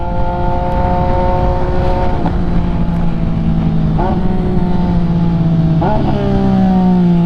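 An MV Agusta motorcycle engine revs and accelerates through several gear changes, loud and close, its pitch climbing and dropping with each shift, with a rider's voice faintly beneath.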